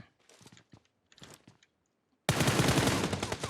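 Enemy gunfire in the mobile shooter PUBG Mobile, a few scattered sharp shots followed by a dense, loud burst of rapid automatic fire that continues to the end.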